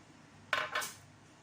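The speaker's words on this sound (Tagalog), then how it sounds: "Patuloy sa pag-mash." Potatoes being mashed in a pot after pepper, salt, cheese and cream are added, heard as two quick clanks of the masher against the pot close by, then quiet.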